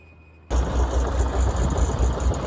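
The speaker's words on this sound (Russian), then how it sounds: "Трактор запустили." A farm tractor's diesel engine cranks and catches after a half-second of near quiet, then settles into a loud, throbbing idle close by, with no voices.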